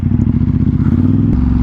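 A Ducati XDiavel with a Termignoni exhaust rumbles loudly and close with a deep, steady pulsing idle. A brief break in the sound comes near the end, and no voices are heard.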